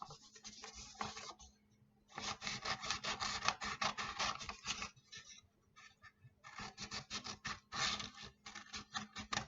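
Scissors cutting fabric for a tie-back scrub cap, close rasping snips in steady rhythmic runs separated by short pauses, with no talking.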